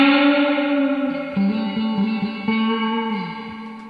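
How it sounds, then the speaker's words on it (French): Electric guitar played through a SurfyBear spring reverb unit in a small room, sustained notes and a few plucked changes ringing out with a huge, washy reverb tail that slowly decays, loud and alone. "je joue dans une toute petite pièce et la reverb est énorme"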